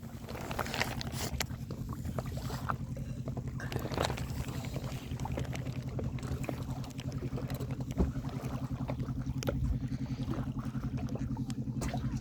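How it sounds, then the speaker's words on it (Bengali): A motor boat runs steadily on a Sundarbans river, its engine a constant low droning throb under light wind and splashing water, with no one speaking. "বাবা, বোটটা তো হেভি রানিং যাচ্ছে।"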